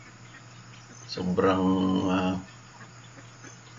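Geese on a farm on a foggy morning give one drawn-out, nasal honking call close by over a low steady hum. A person speaks briefly.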